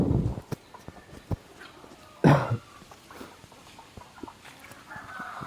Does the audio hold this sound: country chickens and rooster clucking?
yes